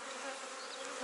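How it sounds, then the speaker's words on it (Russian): Honey bees buzz on a hive frame in a dense, steady, close drone with no pauses and no voices. "Вот, видите, пчелки выходят."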